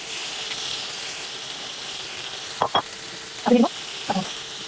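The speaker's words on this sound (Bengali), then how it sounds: "মাছ ভাজাতে এখন বেশি করে" Onions are frying in a pan alongside frying fish, with a continuous soft sizzle broken by a few brief utensil knocks and stirs near the end.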